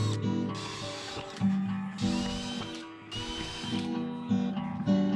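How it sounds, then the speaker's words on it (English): A power drill boring holes through a locker panel, whirring in several close bursts with mechanical clicking and brief stops as the bit starts and breaks through. "drilled those holes"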